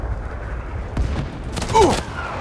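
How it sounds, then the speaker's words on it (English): Enemy gunfire during a Plastic Wars 2022 airsoft-style skirmish: a few sharp cracks and a brief burst amid outdoor background noise, with no clear speech. "Enemy fire!"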